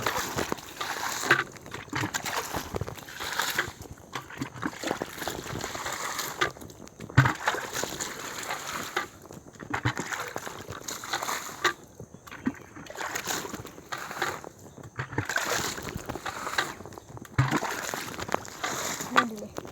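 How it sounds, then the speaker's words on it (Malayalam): A bucket scoops and sloshes water out of a small pond being cleaned, with irregular splashes and trickles repeating close by while someone talks over the work. "ബക്കറ്റ് കൊണ്ട് നമ്മൾ വെള്ളമൊക്കെ കോരി കളയുന്നത് കണ്ടില്ലേ"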